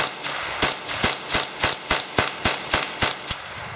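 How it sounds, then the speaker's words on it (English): Rifle shots fired at cans on an outdoor range, about a dozen sharp cracks in a steady, evenly spaced rhythm, loud and close with brief decays between them. "Shooting the cans?"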